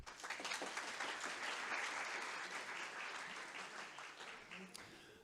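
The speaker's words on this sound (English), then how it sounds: "Can everyone give a round of applause?" A large crowd in an evening lecture hall applauds steadily to welcome a guest speaker to a talk on US history, the clapping dense and sustained throughout before thinning slightly near the end.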